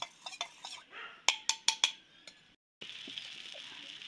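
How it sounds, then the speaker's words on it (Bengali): Beetroot batter stirred with a spoon, sharp metallic clinks and scrapes against the container in a quick rhythm, then a short pause before a softer, steady swishing stir. "ভালো করে গুলবো এটাকে চামচ দিয়ে"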